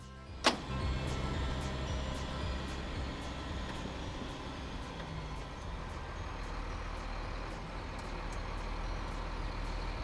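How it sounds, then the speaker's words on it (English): A 10-ton hybrid hydraulic garbage truck pulls away with a steady, close rumble and whine, opening with a single sharp clank, then a continuous drone that holds for the rest of the run. "is what is able to make this 10-ton truck safely accelerate without the use of the vehicle's diesel engine"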